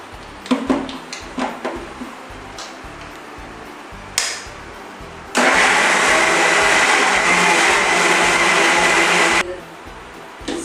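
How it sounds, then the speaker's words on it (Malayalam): A kitchen mixer grinder blends an apple and milk shake mixture: a few clicks and knocks, then a loud, steady whirring roar for about four seconds that stops abruptly. "ആ മിശ്രിതം നമുക്ക് മിക്സിയിലിട്ട് അരച്ചെടുക്കാം."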